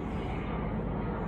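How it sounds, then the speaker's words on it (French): A dense, even engine roar from a helicopter overhead fills the brief moment, steady and fairly loud with no talking. "Désolée pour le bruit, il y a un hélicoptère."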